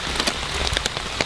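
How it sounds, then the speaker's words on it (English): Heavy rain pours down during an outdoor film shoot, a dense steady hiss with scattered sharper drops pattering close by. "it's just now started downpouring rain"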